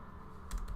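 A few quick keystrokes on a computer keyboard, close and crisp, a short burst of clicks over a low room hum.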